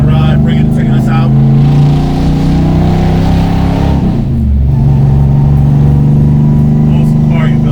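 1970s Buick muscle car with 780 horsepower driving, a loud close engine drone inside the cabin that dips briefly then resumes, with voices talking over it.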